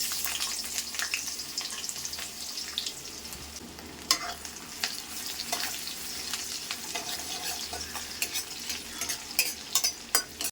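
Onions fry in oil in a pan with a close, steady sizzle, broken by sharp stirring clicks and scrapes that grow busier toward the end.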